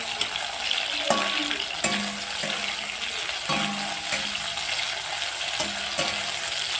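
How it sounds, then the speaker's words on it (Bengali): Potatoes fry in a pan for a Bengali fish curry, a steady close sizzle with repeated scraping stir strokes roughly every second, no one talking. "দেখো, আলুগুলো ভেজে নিচ্ছি"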